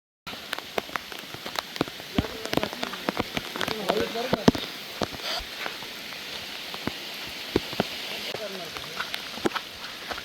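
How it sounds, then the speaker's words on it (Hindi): Dense heavy rain patters and drips on surfaces along a footpath near Nanemachi waterfall in the Sahyadri hills, with scattered sharp drops standing out above a constant hiss. "जैसे जैसे हम आगे जाते रहे बारिश का जोर और ही बढ़ता गया"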